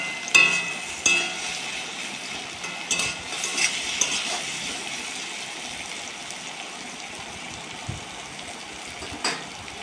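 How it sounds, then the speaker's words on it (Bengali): Mixed vegetables frying and being stirred in a pan for a vegetarian dish, giving a soft continuous sizzle with occasional scraping stir strokes, fairly close and quiet, with no talk. "সবজিগুলোকে ভালো করে নেড়ে চেড়ে ভেজে কষিয়ে নিতে হবে"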